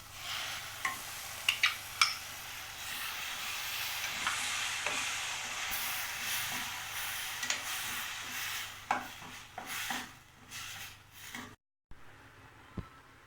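Ground tomato paste being stirred into a frying mixture in a pan, soft scraping and rubbing strokes over a low sizzle, with a few sharper knocks of the utensil, close and fairly quiet, no voices.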